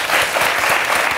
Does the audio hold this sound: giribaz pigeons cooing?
no